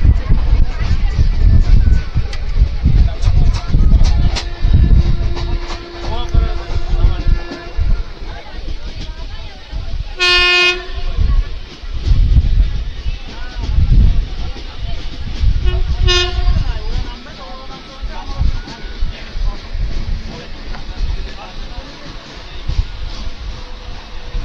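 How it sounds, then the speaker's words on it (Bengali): A train runs at close to 100 on the line near Murshidabad Junction, heard from its open door. Loud rumbling and clattering wheels carry throughout, with two sharp horn blasts and voices under the noise. "ট্রেনের গতি প্রায় 100 ছুঁই।"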